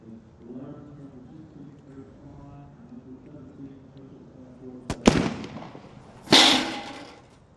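A sniper rifle shot at a SWAT challenge competition cracks out sharply, followed by a second loud report a moment later, after several seconds of distant commentary talk.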